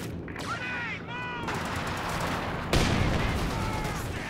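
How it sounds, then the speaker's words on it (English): A pack howitzer barrage firing in the strategy game Company of Heroes 2, with rattling gunfire and dull booms under chirping battle sounds, then a sharp, louder blast near the end. "the heat barrage coming down from the pack howitzer"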